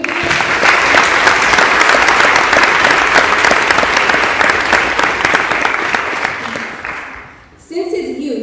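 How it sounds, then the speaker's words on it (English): A dense round of audience applause fills the hall, steady and loud for about seven seconds before dying away, after which a voice starts speaking at a social justice lecture event. "I think that deserves a round of applause."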